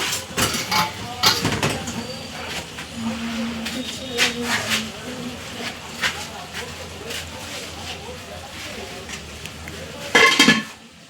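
A cooking pot of finished rice lifted off the stove, with scattered metallic clinks and scrapes of pot and utensils, ending in a loud, close clatter.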